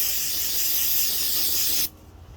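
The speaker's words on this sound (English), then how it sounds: "Spray them down with brake cleaner." Brake cleaner sprays onto hydraulic cylinder parts in one close, loud, continuous hiss that stops abruptly, leaving quiet afterward.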